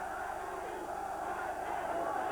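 Hundreds of protesters mass outside the Greek embassy in London after surging through barriers, their crowd roar a steady, dense wash of voices throughout with no individual words standing out.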